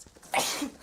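A single sharp sneeze bursts out close and loud after a quiet lead-in, trailing off into a brief exhale.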